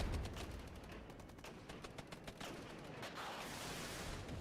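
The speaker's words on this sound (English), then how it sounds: "Our mortars are incoming" Mortar fire in a WWIII real-time strategy game crackles in dense volleys of rapid distant blasts, followed by a rumbling, noisy barrage that continues steadily.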